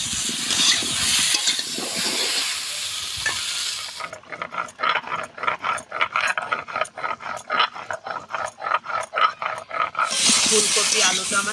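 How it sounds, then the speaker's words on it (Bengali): Cauliflower and potatoes frying in a pan, heard as a loud continuous sizzle at first, then a run of rapid rhythmic stirring scrapes, then the sizzle again, with a voice talking over part of it. "ফুলকপি আলুটা আমার সুন্দর করে ভাজা হয়ে গেছে"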